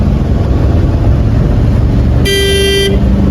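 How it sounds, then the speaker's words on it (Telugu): A vehicle horn gives one sustained honk lasting over half a second, loud and close, over steady road and engine rumble. "ఆరం కొట్టకు"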